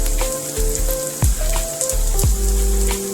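Sauce poured into a hot pan of homemade pasta sets off a steady, close sizzle with frying crackle, punctuated by a couple of sharp clinks and scrapes of a utensil against the pan.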